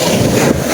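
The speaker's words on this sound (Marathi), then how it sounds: "एवढ्या उंच उंच लाटा इथं उडत आहे, खूप खतरनाक. अरे बाप, आवाज पण असा खतरनाक येतोय ना" Arabian Sea waves crashing on a sandy shore, a loud, continuous roar of surf mixed with heavy wind buffeting the microphone, with a brief surge midway.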